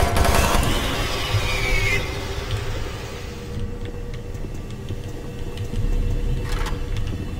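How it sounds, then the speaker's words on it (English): Machine gun fire in the video game Doom 3, a slow, steady run of sharp shots with low rate of fire, loud and close over a humming sci-fi facility ambience. "this machine gun is an incredibly low rate of fire"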